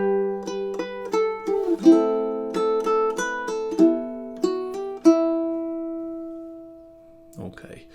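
A ukulele picks four bars of Carol of the Bells, a repeating plucked pattern of bright, clear notes that rings out and then fades, with a little handling noise at the end.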